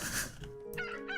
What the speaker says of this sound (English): Chickens are being tended to.